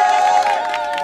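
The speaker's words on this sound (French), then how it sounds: "Vous pouvez vous applaudir." School staff at a protest rally against a class closure in Migennes cheer and shout together, a loud, dense crowd roar with whoops and sustained voices close by; any clapping is buried under the shouting.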